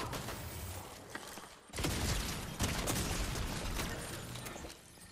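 Gunfire and impacts from a Fortnite fight, a dense burst of shots and blasts swelling up midway and holding, fairly loud with no voices over it.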